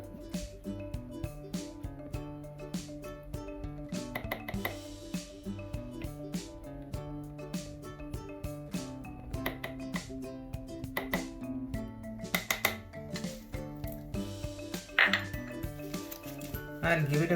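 A spoon stirring a cold-process soap mixture with fresh cream in a container, producing scattered clinks and scrapes against the sides, with a person talking over it throughout.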